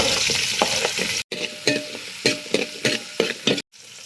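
Shallots frying in coconut oil in a pan, a steady bright sizzle with repeated stirring scrapes, close and loud with two brief silent breaks.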